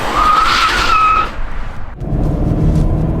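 A 2022 Kia Stinger GT-Line with a turbocharged engine accelerates hard. A strained engine roar with a high whine drops away sharply midway, then a deeper, steady engine drone picks back up, loud and close.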